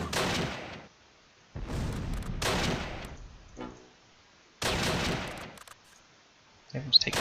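Bursts of gunfire and explosions in the Close Combat: Last Stand Arnhem war game, three loud volleys separated by near-silent gaps, with a sharp crack at the very end.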